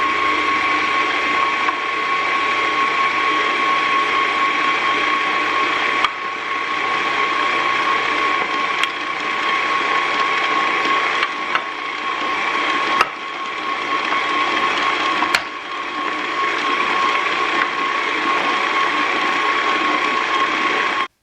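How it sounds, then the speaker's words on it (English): A stand mixer kneads homemade pizza dough on medium speed, giving a steady, close motor whir with a rhythmic mechanical churn and a few brief knocks. It runs alone without talking. "we're going to leave it and allow it to mix on medium speed for about 5 to 8 minutes"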